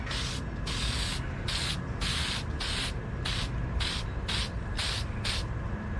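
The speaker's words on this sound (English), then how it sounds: "This is what we're using, the Permatex copper spray gasket, high temp." Repeated short bursts of Permatex high-temp copper spray gasket, about a dozen hisses in a steady rhythm, close and fairly loud over a low background rumble, applied to a gasket for a B16 engine.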